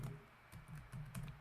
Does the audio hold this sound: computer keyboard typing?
yes